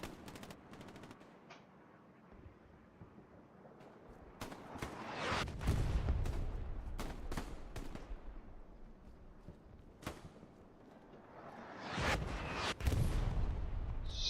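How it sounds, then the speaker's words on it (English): Artillery and small-arms fire from a Hell Let Loose multiplayer battle. Bursts of gunfire and sharp cracks are scattered among deep booming impacts, rising to loud explosions near the end. "Smoke and artillery both hitting"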